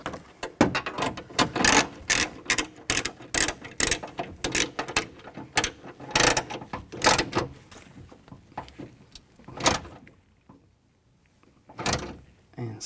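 A ratchet wrench tightens bolts on the door window regulator of a Ford E-250 van, fast rattling clicks in close bursts with brief pauses and a sparse tail of single clicks.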